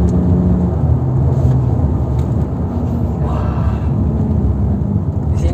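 An MG car engine revs hard as the accelerator is pressed, a loud, steady low rumble that holds throughout without clear rises or pauses.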